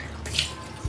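Cold water runs from a household tap, a steady close, soft rushing that holds through the moment.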